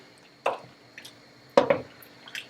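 Thick risotto stirred in a pan, giving a few soft, wet squelching and sucking sounds at irregular intervals, close up and moderately quiet with no talk.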